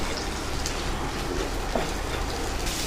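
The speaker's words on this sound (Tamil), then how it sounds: "இந்த வெங்காயத்தோட ஒரு எட்டு பல் அளவுக்கு பூண்டு சேர்த்துக்கலாம் வதங்கட்டும்" Onions and garlic cloves sauté in a pan, giving a steady, close sizzle like light rain that runs evenly through the whole short stretch with no talking.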